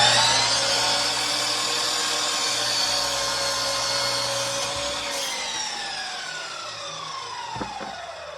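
A whining, shifting tool sound as a saw cuts off the end of a wooden acoustic guitar neck, loud and continuous, with pitch sliding downward near the end before a couple of short knocks.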